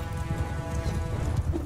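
Horses gallop in Mount & Blade II: Bannerlord, a dense, continuous drumming of hooves at middling loudness with no clear pauses.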